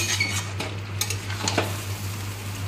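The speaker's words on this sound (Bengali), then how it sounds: "তো এবারে এই চিকেনটা কষানো হয়ে এসছে, আর একটু বাকি, তেল বেরিয়ে যাচ্ছে।" Chicken sautés in oil in a pan, a soft steady sizzle broken by several spatula stirs and light scrapes against the pan, with a low hum beneath.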